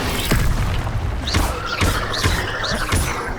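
Repeated spell-casting effects from the Hogwarts Legacy video game, including Levioso: about five bursts of whooshing, rising swishes and thumping impacts spaced roughly half a second apart over a steady game background, with no talking.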